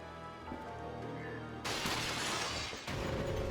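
Glass breaks in the Resident Evil: The Darkside Chronicles game on PS3, a sudden loud bright crash that cuts in midway over a quieter game background, followed by a second smaller burst of noise.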